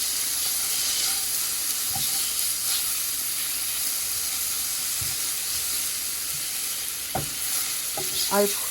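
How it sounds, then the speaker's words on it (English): Mushrooms and zucchini sautéing in a pan give a steady, soft sizzle and hiss throughout, with a few faint utensil clinks and stirring scrapes near the end. "There are my mushrooms and my zucchini getting sauteed."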